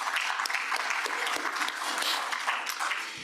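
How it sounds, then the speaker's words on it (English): Sustained audience applause at a Rotary meeting as guests are introduced, a dense steady wash of many hands clapping that holds at even loudness for the whole stretch. "Either applaud as you wish or hold your applause up to you."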